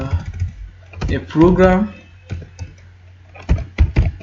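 Clicky keystrokes on a computer keyboard come in short bursts, loudest near the end, while someone talks over the typing at close range.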